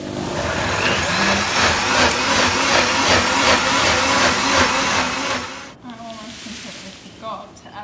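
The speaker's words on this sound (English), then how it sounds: "Then I'm going to whiz it up, and then I'll add the ice right at the end and give it another whiz." Countertop blender whizzing up a passionfruit smoothie with collagen powder, a loud steady whirring grind for about five seconds, then cutting out and leaving quieter kitchen clatter.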